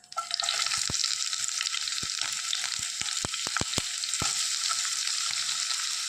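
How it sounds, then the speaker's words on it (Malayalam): Chopped onion sizzles in hot coconut oil for a Kerala egg mappas curry, a bright continuous frying hiss with a handful of sharp spatula clicks and taps, no talking. "ആ സമയത്തേക്ക് നമ്മൾ ഈ അരിഞ്ഞു വെച്ചിരുന്ന സബോള ചേർത്ത് കൊടുക്കാം."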